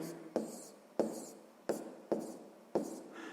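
Pen or chalk strokes writing out a sixth-grade math solution, five short scratchy bursts at a steady rhythm, each starting with a sharp onset and trailing off, close and quiet with no talking.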